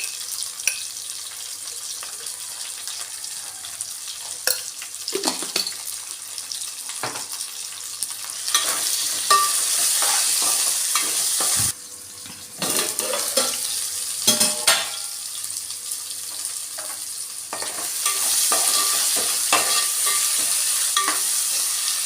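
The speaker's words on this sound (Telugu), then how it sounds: "క్యారెట్ పీసెస్ ఆలుగడ్డ ఇవి వేసుకొని కలుపుకోవాలి" Carrot and potato pieces with ginger garlic paste for moong dal khichdi get stirred in a pan: a continuous sizzle with repeated scraping and clinking of a spoon against metal, briefly dropping out midway before the frying resumes louder.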